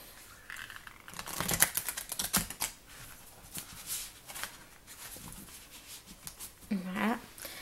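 Oracle cards from the Goddess Power deck being shuffled by hand, giving quick papery riffles and flicks in irregular bursts, close to the mic, with some talking in the background.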